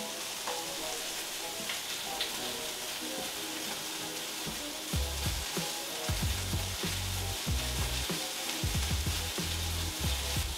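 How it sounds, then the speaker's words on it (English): A ribeye steak sizzles steadily in a frying pan, a dense continuous hiss with crackling pops and occasional clatter as the meat is flipped, heard without talk. "he said he's cooking the steak, flipping them every minute, every 30 seconds"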